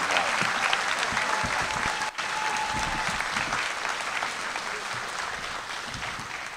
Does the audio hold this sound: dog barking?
no